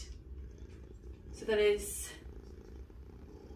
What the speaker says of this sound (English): I'm just videoing your cat.